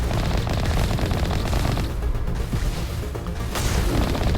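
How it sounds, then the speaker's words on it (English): A Colossus firing rapidly in Mass Effect Legendary Edition, a dense, continuous barrage of loud blasts and booms with no pause, steady throughout. "I think this is the fastest I've ever seen a Colossus fire"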